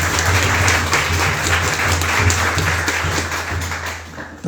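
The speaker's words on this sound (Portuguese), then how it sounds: "Salva de palmas para o Maharaj." Audience at a spiritual lecture applauding for a visiting Maharaj, a dense, continuous roar of clapping that stays full and loud, then tapers slightly at the very end, with a low steady hum beneath.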